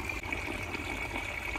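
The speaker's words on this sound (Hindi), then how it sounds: "इधर से पाइप दूसरे में पानी आ रहा है" Water runs through a pipe into a flower pot, making a faint, continuous trickle and splash with no voices.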